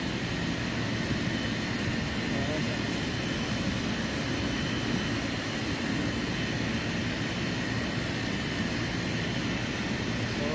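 A single-phase air conditioning unit's compressor runs steadily during troubleshooting of a unit that isn't cooling, giving a loud, unbroken mechanical drone and broadband hum that holds constant throughout.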